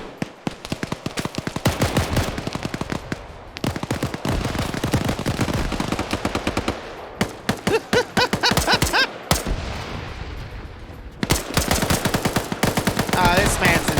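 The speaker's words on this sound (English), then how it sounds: "They're even freaking following up with a handgun." Rapid automatic gunfire and handgun shots in a competitive video game match, dense bursts of shots with brief pauses between volleys, loud and continuous with little talk.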